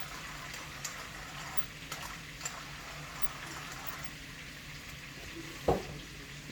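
Steak sizzling in a pan on an outdoor grill at a farm, seasoned with salt and pepper, giving a steady soft frying hiss with faint crackles and one brief louder pop.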